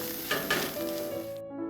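Wild morel mushrooms sizzle steadily in a hot frying pan, a close, even hiss with a couple of brief louder spits, cutting off abruptly after about a second and a half.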